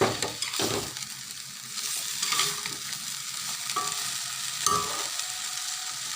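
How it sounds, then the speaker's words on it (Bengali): Potatoes stirred in a frying pan, a steady sizzle close by with the scrape and clatter of a spoon repeating every second or so, no voices. "এখন নেড়ে চেড়ে নিয়ে আলুগুলো দিয়ে দেবো।"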